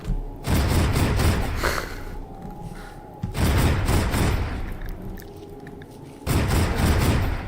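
Rapid bursts of gunfire and heavy booms in a Rimworld colony battle, three loud sustained volleys of shooting separated by brief quieter gaps, with a faint steady tone underneath.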